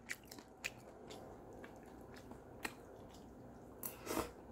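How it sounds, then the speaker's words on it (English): Someone eating crunchy Hawaiian cake noodles with minute chicken, soft close-up bites and chewing crunches scattered irregularly at low level with no talk. "you feel the crunchiness of the noodle"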